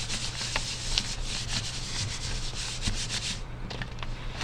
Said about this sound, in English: A good trick is to also flip it over and rub.